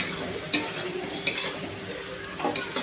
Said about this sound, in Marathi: ती आपण तेलामध्ये छानपैकी परतायची आहे